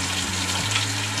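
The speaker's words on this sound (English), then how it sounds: "Just gonna pour it right into the sieve, a strainer, and get rid of all the fat." Browned ground beef and its fat pour into a strainer with a steady, close, gushing liquid rush that holds evenly for its whole short length, with no talk.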